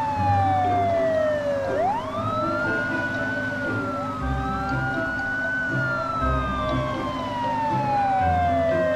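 A toy police car siren wails with long rising and falling sweeps, loud and close, over a low vehicle rumble.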